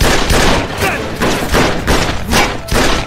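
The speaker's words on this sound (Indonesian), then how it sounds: "Di sini, di tengah baku tembak, Asyong dan Ching Feng mengejar Michael" Gunfire crackles through a shootout in a gangster film, with dense bursts of shots and heavy thuds repeating over a few seconds, loud and close, blended with other action sounds.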